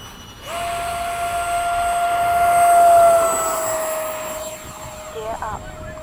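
An E-flite 80mm F-4 RC jet with a 2100kv motor makes a loud, steady high-pitched electric fan whine that swells as it passes overhead and then fades, with brief voices near the end.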